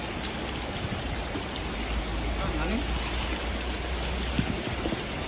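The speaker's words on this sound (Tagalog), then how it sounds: "Ang lakas ng agos." A strong river current rushes past during a fishing catch, a loud, steady, close wash of water that never lets up, with faint voices mixed in.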